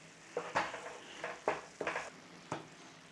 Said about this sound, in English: Bloom those spices out.